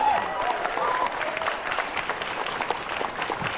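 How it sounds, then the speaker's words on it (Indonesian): A studio audience at a televised political debate gives a speaker steady, full applause throughout, a dense wash of clapping with no break. "Silakan Mas Budiman, kita berikan tepuk tangan."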